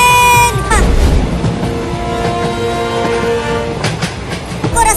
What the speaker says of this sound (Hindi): अरे चिंटू वो देखो, एक और ट्रेन आ रही है।